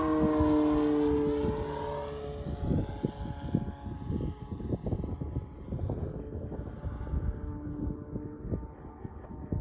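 A Hangar 9 J-3 Cub RC plane with a 10cc engine flies past at full throttle. Its buzzing whine drops in pitch as it pulls away, then gives way to rough, gusty outdoor rumble.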